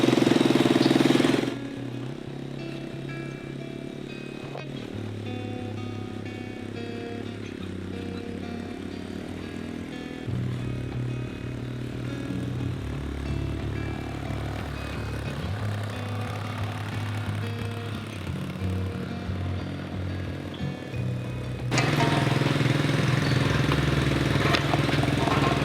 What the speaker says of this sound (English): four-wheeler is trying its hardest. It's in first gear.